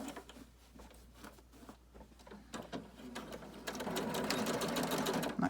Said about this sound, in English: you're going to stitch just a little tacking to make sure it doesn't escape